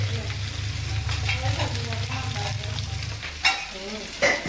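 Onions fry in a pan for an okra dish, a dense, steady sizzle with a low hum under it and a couple of sharp clinks near the end.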